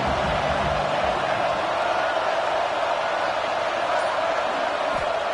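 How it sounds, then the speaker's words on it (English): Stadium crowd at an Alabama college football game, a steady dense roar of many voices cheering, loud and continuous without a break, with commentary-like voices mixed into the noise. "This crowd ready to make its presence known."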